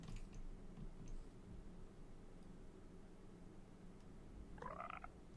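A single brief croak from a creature in Minecraft, heard near the end over a faint, low background hum.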